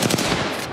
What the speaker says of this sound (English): But I hear shooting on both sides